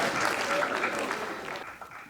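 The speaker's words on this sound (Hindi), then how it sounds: "जोरदार तालियां बजा करके" An audience at a Hindi comic poetry gathering (hasya kavi sammelan) breaks into brief applause, with a voice carrying over the clapping before it thins out near the end.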